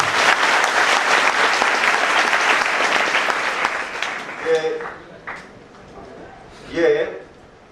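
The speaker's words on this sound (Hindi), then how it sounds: "क्या एक बार तालियां तो बजाओ अपने लिए।" An audience at a talk for an anti-firecracker campaign breaks into loud, dense applause that tapers off after about four seconds, leaving scattered claps and brief voices.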